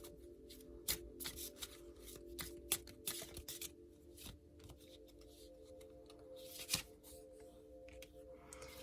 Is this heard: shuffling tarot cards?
yes